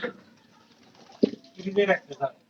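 Soft pigeon coos close by, a few short throaty calls, with faint rustling and a quiet voice mixed in.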